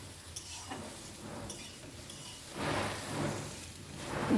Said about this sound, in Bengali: আবারও নাড়াচাড়া করে নিচ্ছি।